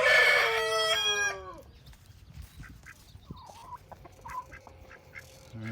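A rooster crows loudly and close by at the start amid chicken calls in a backyard coop, then softer clucks and scattered fowl calls continue through the rest.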